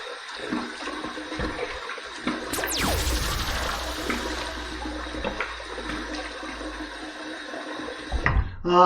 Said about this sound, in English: So now let's take this hot water. Let's just dump it in there as kind of a pre-shave.